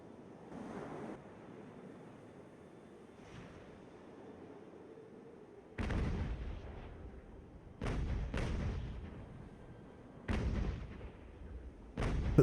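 Naval cannon fire from sailing warships in the game Ultimate Admiral: Age of Sail: several deep, booming broadside shots, some in quick pairs, over a low rumble of wind and sea.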